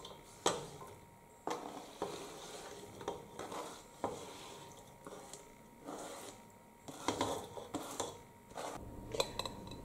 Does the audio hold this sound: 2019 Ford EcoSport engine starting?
no